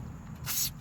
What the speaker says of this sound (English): Go ahead and spray on these shock bolts.